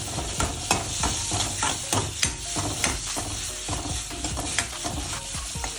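Cottage cheese sautés in oil with a soft sizzle, while a spatula scrapes and taps the pan in repeated strokes, close by with no talking.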